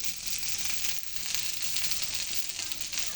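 Curry fries in hot oil as chili powder goes in, giving a steady, bright sizzle that crackles evenly from start to end with no voices.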